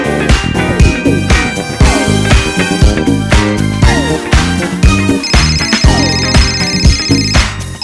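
A mobile phone rings for an incoming call with a loud, melodic music ringtone that plays continuously for about eight seconds, with no talking over it.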